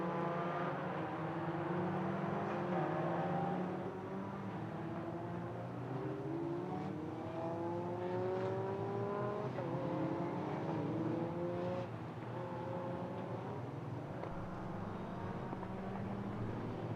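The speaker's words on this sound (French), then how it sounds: "les voitures qui sortent du virage du 180 degrés pour revenir gentiment mais sûrement rejoindre la chicane d'Imola" Mitjet 2-litre race cars race at the Magny-Cours circuit, exiting the 180-degree hairpin, engines revving and sweeping up through the gears as several cars pass in overlapping waves, loud and continuous without talk.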